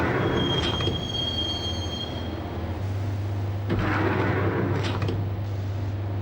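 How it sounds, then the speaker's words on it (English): A subway train ride in the game Max Payne: a steady rolling rumble with high wheel squeals and metallic screeches, rising in intensity partway through, heard alone with no voices. "the train doors had already shut behind me, and I was in for the ride"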